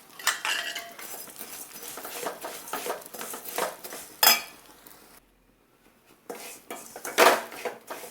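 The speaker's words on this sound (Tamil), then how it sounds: "பாயசத்துக்கு போகிற சேமியா இருந்தாலும் கொஞ்சமாக வறுத்து போடுங்க." Vermicelli roasting in ghee in a pan for payasam is stirred with a utensil, giving steady scraping and clinking close by, broken by a short quiet gap before the stirring resumes.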